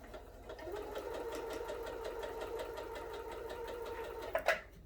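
A sewing machine stitches fabric in a steady, fast mechanical whir with a regular needle rhythm, close and fairly quiet, ending with a short louder clunk as it stops.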